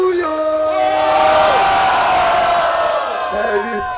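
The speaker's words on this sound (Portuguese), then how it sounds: "Levanta a mão e faz barulho" A live crowd at a Batalha do Forte rap battle in Cabo Frio roars and cheers loudly and continuously, with shouts and whoops rising over the dense mass of voices before easing slightly.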